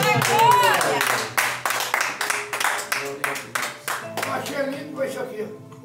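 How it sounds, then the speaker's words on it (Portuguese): Rhythmic hand clapping at a small evangelical preaching gathering in a home, sharp regular claps in time with singing and a voice, fairly close and loud throughout. "Uma salva de palmas para Jesus."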